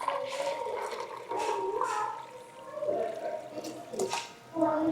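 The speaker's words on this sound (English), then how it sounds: "Now with what's remaining, I'm gonna pour this through a fine strainer." Oxtail pho broth is poured through a fine strainer, giving a continuous splashing, trickling liquid stream that swells and eases in waves, close by and moderately loud with no talking.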